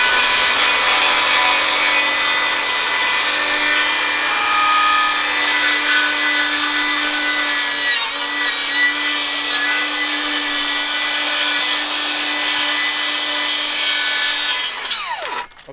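Bosch Profactor 18V rear-handle cordless circular saw ripping through wood, a loud, continuous whining cut held for about fifteen seconds before the blade exits and spins down abruptly.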